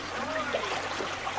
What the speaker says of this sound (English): We'll never get up a waterfall like that.